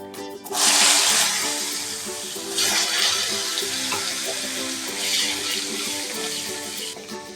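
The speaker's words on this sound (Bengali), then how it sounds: "প্রথমে আমি ভেজে নিচ্ছি গাজরটা" Carrots sizzle and fry in hot oil, a steady, close, bright hiss that jumps loudly as they hit the pan and keeps crackling on without talk.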